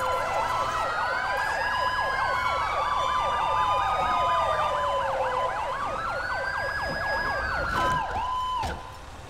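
A wailing ambulance siren in a chaotic driving video game sweeps up and down in fast repeating yelps over a layered electronic wail, loud and continuous before cutting off abruptly near the end.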